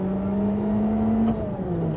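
A Mercedes C111 sports car engine pulls hard under acceleration, its steady rising drone holding for over a second before a shift-like drop and a lower, continuing hum.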